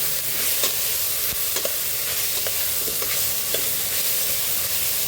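Onions and four chillies sizzle in a little oil in a pan as they are stirred for an egg puff filling, giving a steady, close frying hiss with scattered spoon scrapes and no voices.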